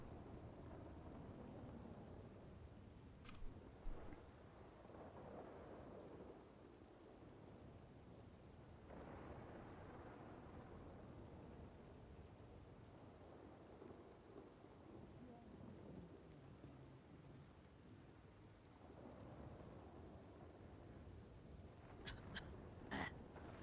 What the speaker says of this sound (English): That lightning was so loud I couldn't hear the sound.